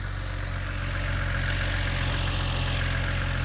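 A BMW N52/N54 straight-six idles steadily and close by, a smooth continuous hum with one faint tick partway through, no voices.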